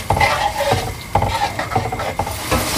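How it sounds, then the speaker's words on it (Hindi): Curd and spices cook in a pan for a Pahadi potato and cauliflower curry, with a soft sizzle under repeated scraping strokes of a spoon against the pan, close and fairly loud. "अब गैस को हम थोड़ा सा बढ़ा देते हैं और दही के साथ इन मसालों को अच्छे से"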